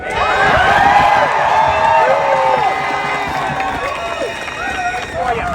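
Crowd at an outdoor protest rally cheering and applauding, a loud sustained roar of clapping mixed with whoops and shouts, steady across the whole stretch and gradually easing slightly.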